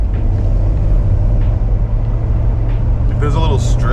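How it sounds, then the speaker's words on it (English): Steady, loud engine rumble of a Porsche 911 sports car driving, with a continuous low drone and road noise; near the end a brief higher whine or squeal rises above it. "I gotta stop talking just so you guys can hear like the rhythm of this car"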